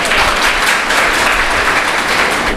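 An audience at a gathering about body donation to AIIMS hospital gives a loud, dense round of applause, continuous clapping from many hands close by for the whole short stretch.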